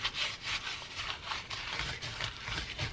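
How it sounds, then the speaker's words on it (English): Hands rub dry seasoning inside the cavity of a rotisserie chicken, giving a steady, close scratchy rubbing that swells and eases in repeated strokes with no talking. "I'm going to take a handful of the seasoning and rub it inside."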